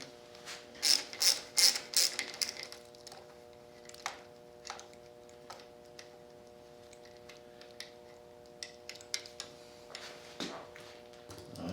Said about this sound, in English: I'm gonna go ahead and take this cable off, clutch lever and cable.